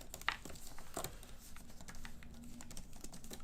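Keys clatter on an iPad Pro Magic Keyboard in a quick, uneven run of soft, close clicks with no voice over them.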